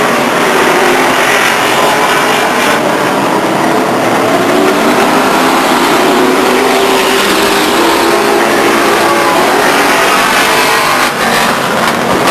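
Stock cars race down the backstretch at Stockton 99 Speedway, a loud, continuous roar of engines and wind heard from the track side, steady throughout with no talk.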